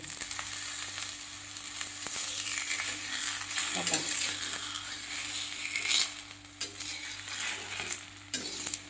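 Steady frying sizzle of a bottle gourd flatbread on a hot oiled griddle, a continuous hissing crackle with a few clinks and scrapes, no talking.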